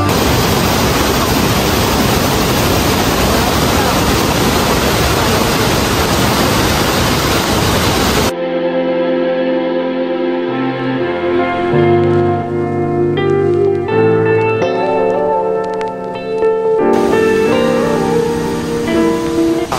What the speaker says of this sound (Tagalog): medyo malakas rin ang current ng tubig